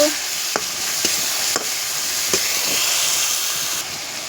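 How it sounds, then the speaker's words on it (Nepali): Masala spices frying in a pan with a steady close sizzle and hiss, broken by several soft clinks of a spoon stirring, no voices. "मसला हाले मैले। मसला अब मजाले पकाउँछु।"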